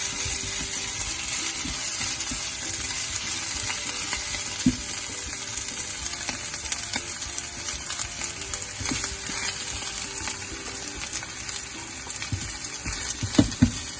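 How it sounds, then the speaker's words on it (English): Garlic cloves sauteing with golden brown onions, a continuous bright hiss of frying with light stirring scrapes and occasional clinks, steady and close, no talking. "we're going to be adding our garlic cloves in. And then you just want to saute this for a few seconds"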